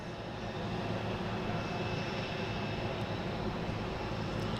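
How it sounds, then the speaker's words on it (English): A Delta Embraer E175 jet takes off at Boston Logan International Airport, its engines producing a steady, broadband roar that holds constant throughout without any talk over it. "Also got a Delta taking off, heading to Charlotte, E175."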